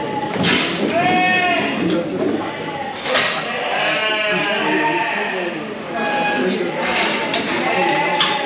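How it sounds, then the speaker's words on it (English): Sheep at a livestock market bleat repeatedly, several overlapping near and farther calls in bursts, with people talking in the background. "Right, my sheep are going in here."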